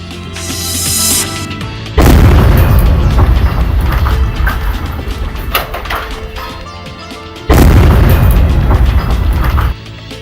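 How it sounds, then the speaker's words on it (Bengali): Two heavy, thunderous blasts from the controlled detonation of a bomb, each a deep rumbling boom that lingers for a couple of seconds before cutting off, with rumbling noise between them. "সাভারে বিস্ফোরণের মাধ্যমে নিষ্ক্রিয় করা হলো মসজিদের মাঠ থেকে উদ্ধারকৃত বোমাটি"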